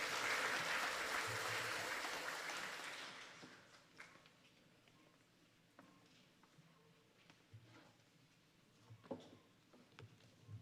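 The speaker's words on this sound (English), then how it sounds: "Can we give him a round of applause as he comes" An audience at a Gingerland Secondary School graduation ceremony claps in a loud, dense burst that fades away after about three seconds, leaving a quiet room with a few faint scattered sounds.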